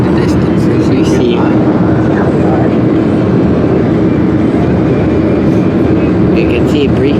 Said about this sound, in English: There's a freight train off in the distance,